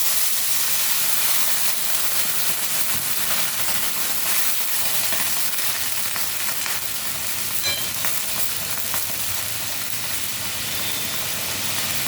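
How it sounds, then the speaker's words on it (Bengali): Eggplant fries in a pan after a splash of water is added, giving a loud, steady, close sizzle and hiss that runs unbroken throughout, with faint scraping of stirring mixed in. "বেগুনটা একটু ভালো করে ভাজতে হবে।"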